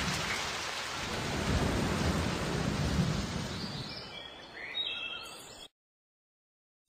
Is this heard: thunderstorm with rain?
yes